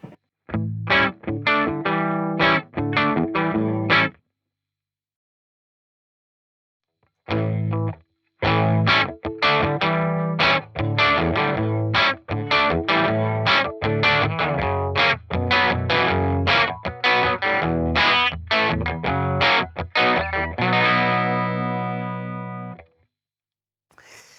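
Electric guitar through a Dr. Robert effect pedal by Aclam Guitars, playing chords and picked notes with a clean tone, stopping briefly for a few seconds before continuing, then ringing out at the end.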